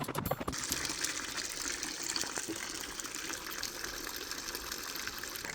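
A hand-cranked manual clothes washer at an off-grid cabin is twisted, water sloshing and gushing continuously inside the drum after a few sharp knocks at the start, close and steady with no talk.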